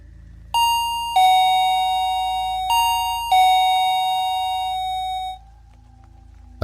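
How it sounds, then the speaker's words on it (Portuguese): A doorbell chimes in four clear ding-dong tones, loud and close, then fades out into a quiet hum. "A campainha."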